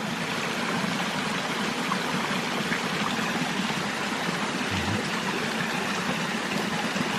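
Steady broadband rush of a waterfall in the Adirondack mountains near Mount Colden, a continuous even roar of falling water heard alone without talk.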